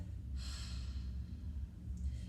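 A long, steady breath out during a voice-training breathing exercise, a soft airy rush with no talking, followed near the end by a shorter second breath.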